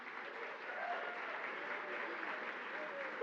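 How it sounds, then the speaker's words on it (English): An audience applauds at a barbershop chorus anniversary show. The even, steady wash of clapping sounds distant and quiet and holds throughout. "Ladies and gentlemen, again, a round of applause."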